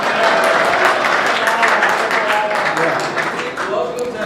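An audience at a comedy poetry recital claps loudly in a dense, sustained burst of applause that fills the room for a few seconds, with some crowd voices mixed in.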